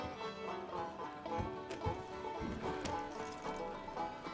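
A horse in the video game RedM clip-clops in a steady, moderately close rhythm of hoof strikes, with a faint whinny mixed in over a busy game background.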